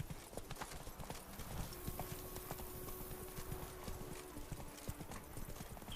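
Steady horse hooves clip-clopping at a trot in The Witcher 3, a continuous rhythmic beat close by over faint ambient game sound, with no talk.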